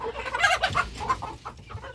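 Several chickens and roosters, including blue Ameraucanas, cluck and squawk close by in a busy, overlapping chorus, with no talking.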